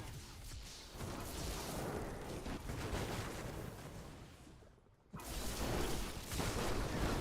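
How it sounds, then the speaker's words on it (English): A barrage of explosions from the video game Diablo 3 rumbles continuously at modest volume, dipping briefly near the end before the blasts surge back. "Jesus, that was a lot of explosions."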